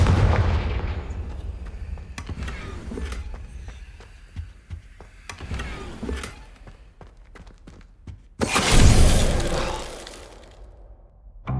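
A Confringo fire spell blasting in the Hogwarts Legacy video game: a loud whooshing burst with a deep booming impact, set among softer thumps and scattered game effects, with no talking.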